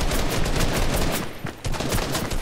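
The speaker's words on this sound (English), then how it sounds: "giving you cover fire, Slayer." Rapid, continuous gunfire in a Fortnite match, dense overlapping shots filling the whole moment, loud and close with a brief dip partway before the bursts resume.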